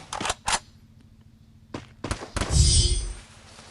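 Gunfire in a video game comes as a few sharp, punchy shots spaced irregularly, followed by a louder burst with a rumbling tail near the end.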